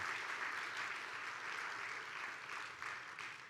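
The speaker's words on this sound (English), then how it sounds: "Can we get a celebration applause for that?" A church congregation claps in celebration, a soft, continuous wash of many hands heard from a distance, even in level throughout.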